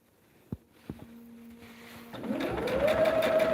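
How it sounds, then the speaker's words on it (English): A sewing machine stitches a quarter-inch seam on a fan quilt, a few soft clicks and a brief hum before the motor ramps up into a steady rising whir. "Right now, I'm just sewing this on with your 1/4 inch seam allowance"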